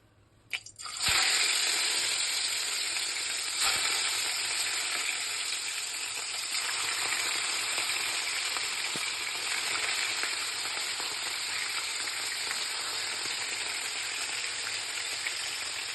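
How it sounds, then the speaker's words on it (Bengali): Pieces of catla fish fry in hot oil in a wok, a loud, steady, dense sizzle that bursts up as the fish goes in and then carries on evenly with no talking. "কড়াইতে তেল গরম করে এক একটা মাছের পিস দিয়ে ভেজে নেব"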